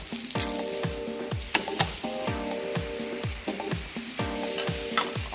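Onions and garlic sauté in a pan while a utensil stirs and scrapes them, producing repeated sliding strokes in a steady rhythm over a constant close sizzle.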